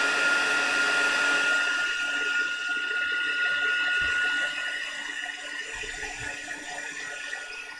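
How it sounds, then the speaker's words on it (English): A small heat gun runs continuously with a steady airy whir and faint mechanical hum, loud at first and easing slightly later, with no voices over it. "So I'm just going to get my heat gun out."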